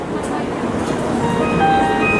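A Shinkansen Nozomi high-speed train at a station platform, its doors closing with a sustained electronic tone before departure, under a continuous hum of rolling stock; someone speaks over the scene.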